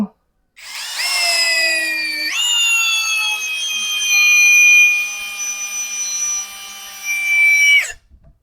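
A CANLIDI CID-60 three-mode cordless drill with 60 Nm torque drives into wood, a loud whining motor that lifts in pitch once, holds for several seconds under load, then winds down and stops.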